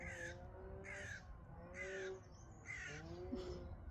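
Crows cawing outdoors, about five harsh caws in a loose, evenly spaced series, faint and somewhat distant over low background noise.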